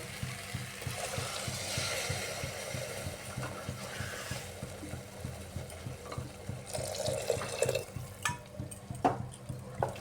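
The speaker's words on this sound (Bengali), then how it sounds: "এবার এর মধ্যে দিয়ে দিচ্ছি জল" Water poured into a pressure cooker of sautéed soybean and rajma ghugni, a steady close splashing and trickling that runs on for several seconds, with clinks and stirring near the end.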